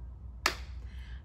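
A single sharp hand clap, struck close and loud after a moment of quiet, then a short fading room tail; no talk.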